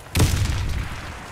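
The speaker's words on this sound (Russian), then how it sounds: "Кидаю гранату." A grenade explodes in the online shooter Warface: one loud, close boom with a sharp onset and a rumbling low tail that fades over about a second.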